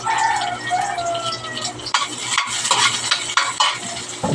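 Onions sautéing in a pan after garlic, a loud close sizzle with scraping and stirring of a utensil against the pan.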